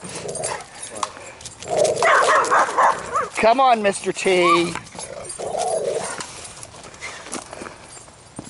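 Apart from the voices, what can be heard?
dog barking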